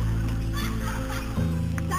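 Hens cluck softly as a sound effect in a Noli Me Tangere audiobook scene, making a low, steady cackling murmur that runs through the short moment alone.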